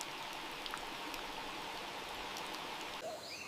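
Steady rain hisses through dense rainforest foliage, with scattered drips and a faint bird call near the end.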